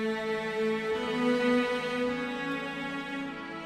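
Keyboard sounding three layered patches including strings and cello, a sustained blended chord with a gently shifting melody on top, moderately loud and alone.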